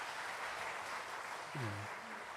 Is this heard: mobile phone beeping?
no